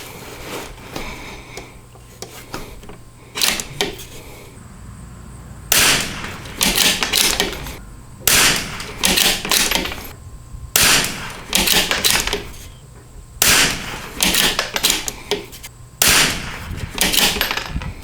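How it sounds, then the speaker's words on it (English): A CZ 457 rifle fitted with a Lilja barrel, MDT XRS chassis and Timney trigger fires a group of sharp, loud single shots spaced a second or two apart, with quieter handling between them. "I'm gonna go ahead and I'm gonna shoot this group just for grins"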